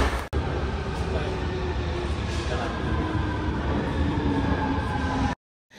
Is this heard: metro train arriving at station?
yes